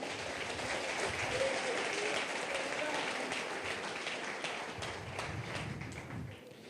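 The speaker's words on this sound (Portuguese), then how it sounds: "Dê um aplauso ao Senhor, aleluia." A church congregation claps in a dense, continuous round of applause that eases slightly toward the end, with no talking.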